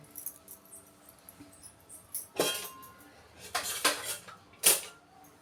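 Light clinks and clatters of a plate and kitchenware being set down during home cooking of obbattu, a few short separate knocks spread over several seconds, fairly quiet with no talking.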